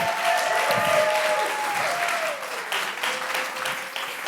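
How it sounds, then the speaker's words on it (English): Steady applause from a crowd, dense clapping that holds throughout with a sustained tone ringing underneath. "Let's hear a big round of applause for all the artists that we're gonna hear."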